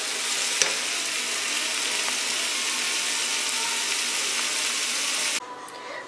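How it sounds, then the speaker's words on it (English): Sausage frying in a pan with crushed red pepper, a steady close sizzle with a brief clink near the start, cutting off sharply just before the end. "you keep cooking it with the crushed red pepper"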